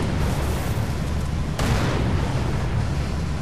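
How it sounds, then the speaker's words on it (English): Scorpion tank cannon firing in Halo 3, one sharp, heavy blast about midway through a constant loud roar of battle noise. "That's big cannon."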